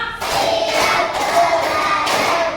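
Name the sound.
children clapping in rhythm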